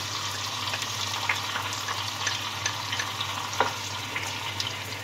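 Steady sizzling of masala spices with yogurt frying in hot oil, a continuous crackling hiss with occasional sharper pops and faint stirring scrapes.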